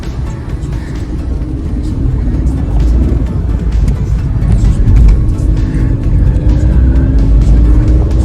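A Skoda Fabia Combi Greenline hums loudly from inside the cabin while driving, its engine drone climbing and easing smoothly through long gears, with faint voices now and then.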